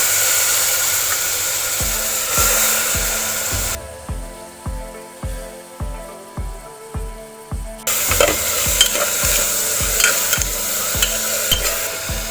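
A tadka of coriander, chillies and spices in hot oil for a vegetarian thali, steady sizzling under a regular series of rhythmic stirring thumps, with a quieter stretch in the middle before the hiss returns loudly.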